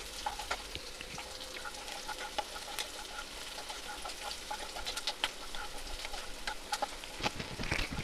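Chopped onion frying in a pan for vada pav, a steady close crackling sizzle with scattered pops and stirring, no one speaking.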